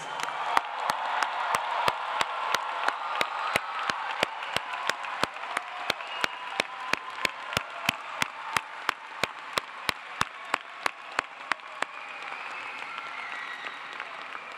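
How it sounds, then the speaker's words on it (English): Sustained audience applause fills a Clemson summer 2025 doctoral commencement, a dense wash of many hands clapping for about twelve seconds before tapering off near the end. "Will you please join me once again in a very loud round of applause for"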